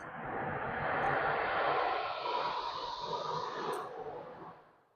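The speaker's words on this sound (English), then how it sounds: "I think that was a jet. That was a very low-lying Very low jet. Flying over." A low-flying jet passes over an Edinburgh Festival Fringe venue, a broad roar that swells in, holds for several seconds and then fades away, loud and alone with no talk.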